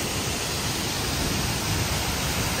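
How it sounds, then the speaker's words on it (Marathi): Strong flow of the Maval waterfall in Takwe, a steady broadband roar of falling water that stays loud and unbroken throughout, with no voices. "मित्रांनो, हा आहे मावळचा धबधबा."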